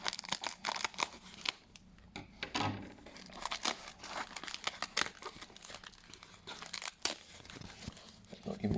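Packaging around a damaged Pokémon Scale Studio figure lot is cut and crinkled up close, with repeated snips, tearing rustles and crinkling plastic in irregular bursts, with no talking.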